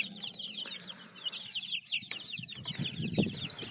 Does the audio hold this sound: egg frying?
no